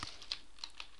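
Typing on a computer keyboard, a few separate keystrokes clicking at an uneven pace, close and fairly quiet, with no talking.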